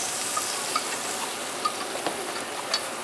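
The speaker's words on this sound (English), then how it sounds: "So since the butter is with the flour now we got to mix it." Butter and flour stirred together in a pot for a mac and cheese soup, a steady close sizzle with soft scraping strokes and faint ticks of the utensil against the pot.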